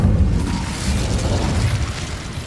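A loud, sustained burst of roaring fire from the Incendio spell cast in Hogwarts Legacy, a dense whooshing blast that fills the moment without any talk.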